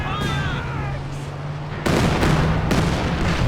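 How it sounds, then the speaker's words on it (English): A Katyusha rocket barrage in Company of Heroes 2 lands as two sharp broadband blasts, each followed by sustained rumbling roar over a steady low battle drone, loud and close after a quieter opening. "That's for a pretty solid Katyusha barrage."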